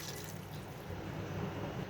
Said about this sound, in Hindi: और अब मैं इसमें पानी डाल दूँगी।